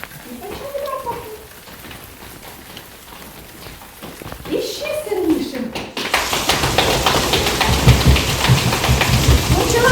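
Patter of hands imitating rain, soft and sparse at first, then swelling into a dense, loud drumming in the second half, with faint voices early on.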